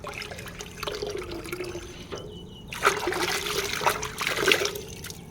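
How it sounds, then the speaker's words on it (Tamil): Water poured in a steady trickling stream into a buttermilk mixture for a homemade plant pest repellent, a close, continuous splashing that swells louder toward the end. "50 லிட்டர் அளவுக்கு நான் தண்ணி வந்து ஊற்றிட்டுருக்கேன்"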